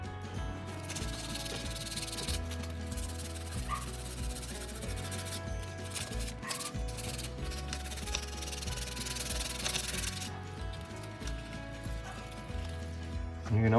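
Sandpaper rubs rhythmically over the painted body of a Tamiya Blitzer Beetle RC car, giving repeated close, scratchy back-and-forth strokes at a quiet, even pace.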